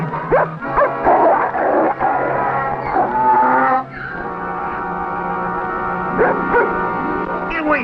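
A dog barks, yips and whimpers in an old 1956 western adventure soundtrack, loud bursts in the first half easing into fainter yelps over a busy background.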